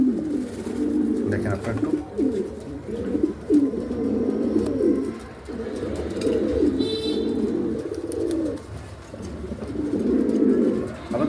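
Pigeons in a pair kept for sale give repeated throaty coos in bursts, close and fairly loud, while someone talks briefly over them.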